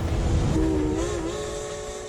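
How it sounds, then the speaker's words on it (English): Train running in the video game Amnesia: Baxter's Memoirs, a steady loud rumble with a wavering horn-like tone rising over it partway through, continuous and close throughout. "Now we go with the train, huh?"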